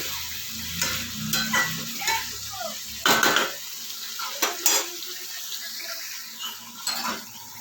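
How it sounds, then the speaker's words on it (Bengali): Spice paste sizzles in a pan while being stirred and sautéed for a meat curry, with close scraping and clanks of a spoon against the pan breaking over the frying hiss in irregular bursts. "এবার একটু ভালো করে কষিয়ে নেবো।"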